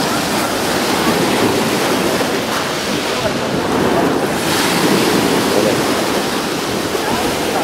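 Sea waves and surf around a rented catamaran off Yalta, Crimea, a continuous loud wash of water with heavy wind buffeting the microphone and no clear talk.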